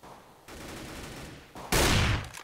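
Gunfire from Counter-Strike on the de_cache map during an esports match, a steady rattling spray of automatic fire that swells into a louder, dense burst near the end.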